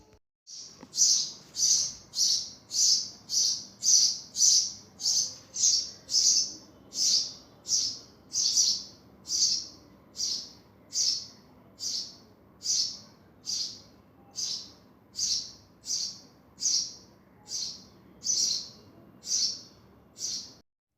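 Bird chirps in a steady, evenly spaced series of about thirty bright, clear calls, each short and repeated roughly once per second over a quiet background for about twenty seconds.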